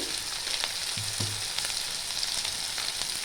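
Chopped tomato fries lightly in a pan with a steady, close, broadband sizzle and a few faint stirring touches.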